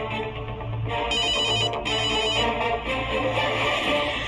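Phone ringtone of an incoming call, a loud, steady electronic melody looping throughout with bright repeating tones and no talk.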